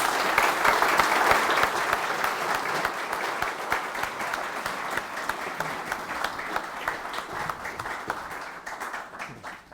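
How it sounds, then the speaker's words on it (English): A courtroom audience at a district court Law Day event bursts into loud, sustained applause that thins gradually toward the end, with no speech over it. "I'd ask that you give him a round of applause"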